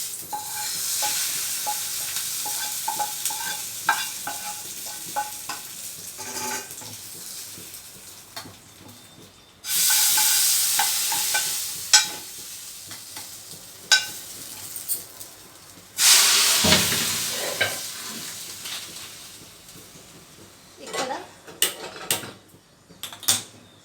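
A hot pan hisses and sizzles while a spoon stirs and scrapes ivy gourd and tomato chutney into a tempering, with loud bursts of steam whooshing up twice.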